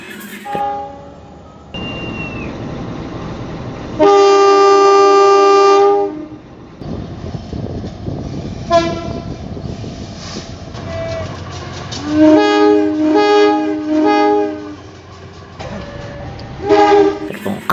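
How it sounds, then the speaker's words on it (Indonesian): A CC206 diesel locomotive passes on the railway, sounding several loud, sustained horn blasts over the rumble and clatter of the moving train. "Ini lokomotif."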